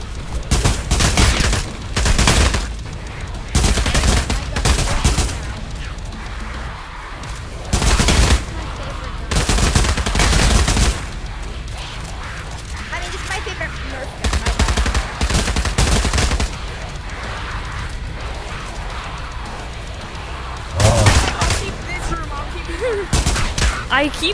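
Gunfire in the VR shooter Pavlov zombies mode comes in several loud automatic bursts separated by quieter stretches, with players talking in between the volleys.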